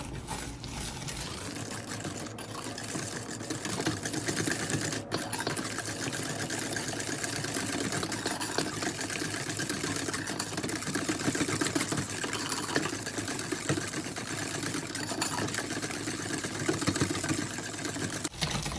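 Steady whirring and clattering of a mixer beating eggs and sugar in a bowl over hot water, continuous and close, with faint watery sounds underneath and no talking.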